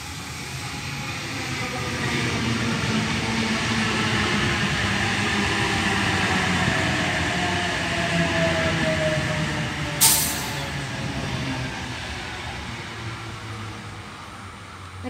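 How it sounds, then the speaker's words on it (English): A four-car Oscar electric passenger train rolls into a station on a Port Kembla service, giving a steady, loud rumble and wheel hiss for the whole stretch, with a brief sharp burst near the end. "And we have a 4-car Oscar coming for a Port Kembla service."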